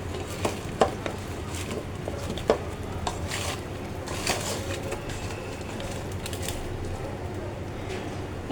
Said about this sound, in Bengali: এবার এই যে তেলটা ফুটে আসছে